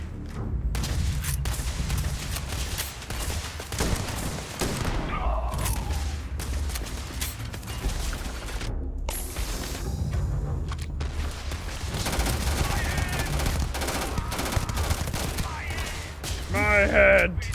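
Rapid automatic gunfire in a Starfield firefight rattles in dense, loud bursts, with someone talking over parts of the shooting.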